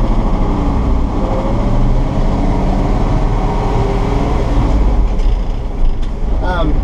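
A 1979 Ford F-150 Custom 4x4 with a 351M V8 and four-speed manual pulls off in second gear, a steady low engine drone and road rumble running throughout while someone talks over it.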